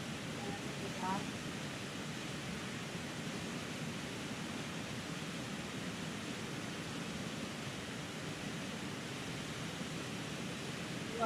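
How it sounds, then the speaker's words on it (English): Continuous roar of a waterfall in the Catskills, an unbroken hiss of falling water at moderate distance, with a faint brief chirp near the start. "You are now recharged and refreshed by this beautiful waterfall."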